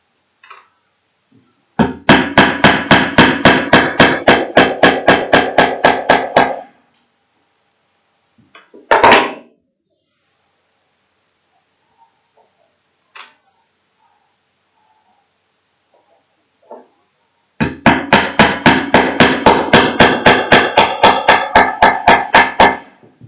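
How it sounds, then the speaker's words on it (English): Small nails hammered into a triangle D ring on a wooden base for string art: two long runs of quick, evenly spaced hammer taps, close and loud, separated by a quiet pause with a single sharper knock. "I'm going to put in the small nails on the triangle D ring."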